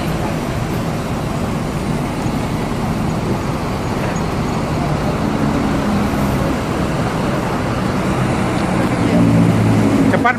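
Buses and road traffic roll into the Poris Kalideres bus terminal, a continuous loud rumble of engines and tires with a deeper bus engine swelling near the end; people talk over the din.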